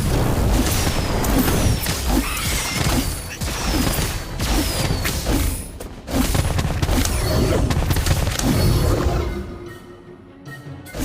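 Casting the Incendio fire spell in the video game Harry Potter: Magic Awakened brings loud, dense bursts of booming, crashing effects with whooshing sweeps. The bursts run nearly continuously before thinning out toward the end.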